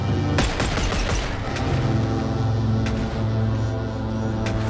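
Rapid AK rifle fire in the VR game BONELAB, dense bursts of sharp cracks and echoing booms that stay loud and continuous throughout.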